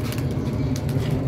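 Pigeons released from their coop, a steady flutter of many wings and soft cooing mixed with outdoor background noise, continuous and close throughout.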